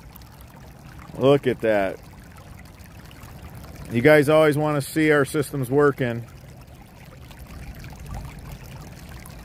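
Flash flood water pours and trickles steadily through a yard drain in the background while someone talks in short bursts.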